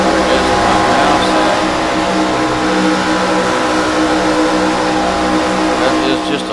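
A race car engine roars steadily in a racing video game at Talladega from a chase view behind the National Guard 13 car, loud and continuous with sustained revving, while someone talks over it.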